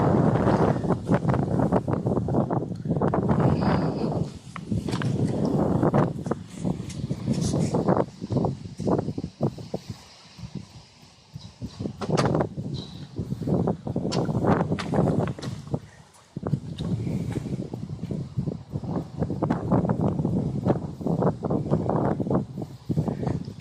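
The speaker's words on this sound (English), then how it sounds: "Excuse me for the wind; it's kind of windy." Strong wind buffets the microphone outdoors beside railroad tracks at an interlocking, roaring in long gusts with a brief lull in the middle.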